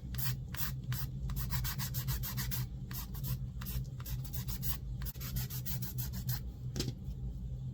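A file rasps back and forth over the body of a fabric-wrapped UV resin pen, brisk rhythmic strokes in quick close bursts with short pauses, steady and fairly quiet with no voices.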